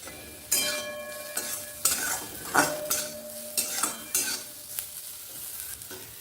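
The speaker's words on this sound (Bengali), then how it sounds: "আলু গাজরটা আমার সুন্দর ভাজা ভাজা হয়ে গেছে" Potatoes and carrots fry with salt and turmeric in a pan, a spatula stirring them in repeated loud scrapes and clinks over a steady sizzle.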